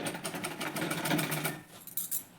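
A sewing machine runs steadily, stitching an old salwar onto backing fabric for a recycled organizer, its rapid needle chatter close and continuous before easing off into a few scattered clicks.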